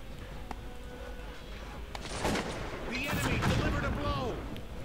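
Musket volleys from grenadiers in the Cossacks 2: Battle for Europe strategy game, a cluster of overlapping shots and thumps building in the second half, fairly distant and muffled rather than sharp.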